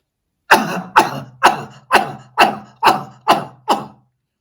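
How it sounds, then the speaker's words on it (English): Eight forceful, deliberate coughs from a coughing pranayama breathing exercise, evenly spaced about half a second apart, loud and close with silence between each burst. "So now we're going to do coughing pranayama, and I will demonstrate"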